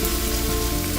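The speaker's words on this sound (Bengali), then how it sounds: "আবারও আমি এটাকে ঢাকা দিয়ে ভাজছি" Food frying hard in a covered pan over a high gas flame, a dense, steady sizzle close up with no talking.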